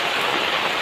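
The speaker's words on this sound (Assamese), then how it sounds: "একদম বহুত ডাঙৰ বৰষুণ" Heavy monsoon rain pouring onto a paved village road in Assam, a brief steady hiss of dense drops close by, with no talking.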